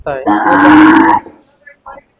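A Gir cross cow at a cattle market in Dhule gives one loud, close, drawn-out moo, followed by faint background noises.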